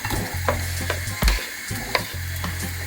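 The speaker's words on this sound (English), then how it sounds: "Now it's time to fry off our fresh seasoning. I'm using a little bit of oil" Onion frying in a little oil in a pan, a steady low sizzle broken by a few sharp scrapes and taps of stirring, with no voices.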